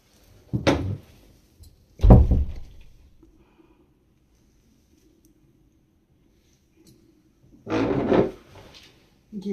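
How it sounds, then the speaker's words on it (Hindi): A door is pulled shut indoors, giving a few separate wooden knocks and thuds spaced several seconds apart, with a quiet lull between them and no one talking. "मैं थोड़ा दरवाज़ा बंद कर लेती हूँ भाई साहब।"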